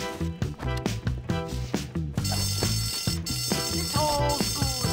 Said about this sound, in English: Who set that alarm off?